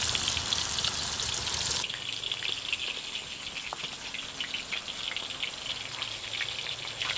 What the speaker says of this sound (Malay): goreng ayam sehingga masak